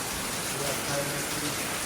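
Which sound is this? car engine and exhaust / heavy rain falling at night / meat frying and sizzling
heavy rain falling at night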